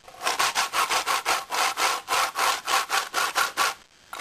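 A fingerboard grinds back and forth along a Tech Deck ramp, about sixteen even rasping strokes in a steady rhythm, close and clear, then a brief pause at the end.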